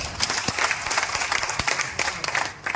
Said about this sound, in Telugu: దీని కోసం ఒక్కసారి బిగ్ క్లాప్ సార్.